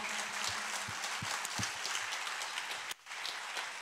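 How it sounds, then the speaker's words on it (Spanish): A church congregation at a Good Friday service applauds, giving a continuous wash of fairly distant clapping with a few sharper claps and a brief dropout near the three-second mark. "Si le va a dar un aplauso a Dios, déselo fuerte."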